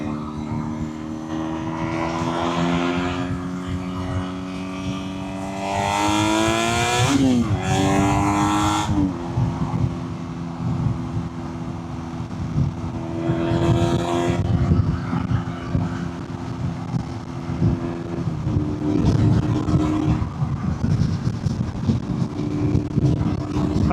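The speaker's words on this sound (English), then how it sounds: "So, valve half open, second gear, let's give it some acceleration" A BMW R nineT with a Jekill & Hyde Akrapovic exhaust, valve half open, accelerates hard in second gear, its engine note climbing in rising sweeps and then holding a loud, steady rumble with a person talking over it.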